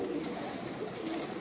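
Pet pigeons coo softly and steadily in a low, continuous murmur, close by and without speech.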